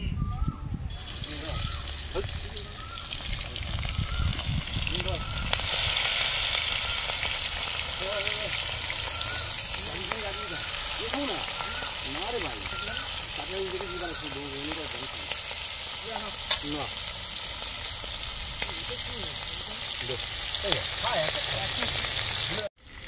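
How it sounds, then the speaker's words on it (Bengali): Shrimp sizzle and crackle continuously in oil in a pan, with occasional stirring scrapes and bubbling throughout. "তার জন্য চিংড়ি মাছগুলো ভেজে নেবো"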